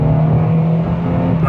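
A 2016 Nissan Frontier Pro-4X pulls hard under acceleration, its engine a loud, steady drone heard from inside the cab, with the pitch shifting near the end as it downshifts.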